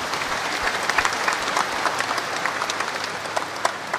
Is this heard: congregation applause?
yes